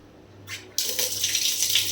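Water pours or runs from a tap in a home setting, starting with a short splash and then flowing steadily and fairly close for over a second, with no talking.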